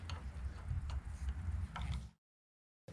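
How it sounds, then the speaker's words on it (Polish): A ratchet loosens the front suspension bolts on a Suzuki SV motorcycle, giving close, rapid mechanical clicking for about two seconds before it stops abruptly. "Te śruby popuszczamy, zanim popuścimy te i te."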